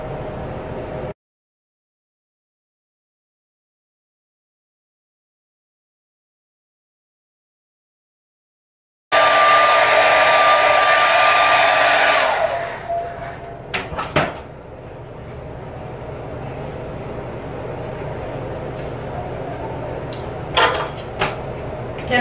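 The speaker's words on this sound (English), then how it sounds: "take like this basic hair dryer, this basic diffuser, and I'm gonna put my head upside down and blow dry it a little bit" A basic hair dryer fitted with a diffuser blows on curly hair held upside down, a steady loud broadband whoosh that starts abruptly after a stretch of silence and runs for a few seconds before dropping to a quieter hum with small handling clicks.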